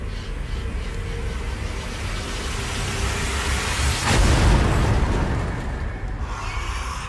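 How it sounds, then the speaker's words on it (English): An explosion in the Resident Evil 2 video game, a single loud blast rising out of a steady noisy background and decaying over a couple of seconds. "It's gonna explode."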